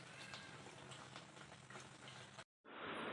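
Banana puris deep-frying in oil, a dense, even bubbling sizzle that runs steadily, cuts out briefly to silence, then resumes just as loud.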